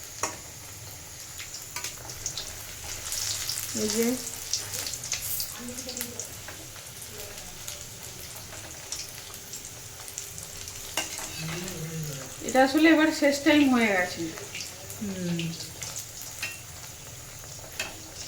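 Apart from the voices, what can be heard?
peas-filled kachori frying in a wok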